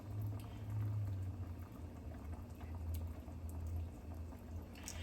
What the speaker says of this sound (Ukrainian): І так даємо їм протушитися хвилин 20-25.